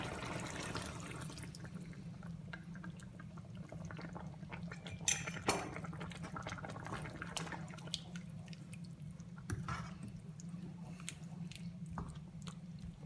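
Cornflour-thickened sauce for chilli chicken bubbling and simmering in a pan, with soft wet pops and drips over a steady low hum, moderately quiet and close, no talking.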